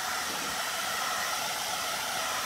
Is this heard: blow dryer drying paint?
yes